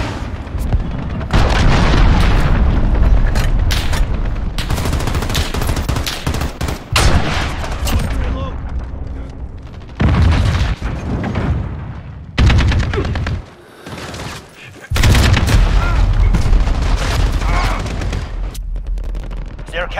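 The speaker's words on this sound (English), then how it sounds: "Allied cruise missile launched." Call of Duty Modern Warfare multiplayer fills the air with dense automatic gunfire, booming cruise missile explosions and artillery blasts, loud and continuous with brief lulls, while in-game announcer voices call out over the battle.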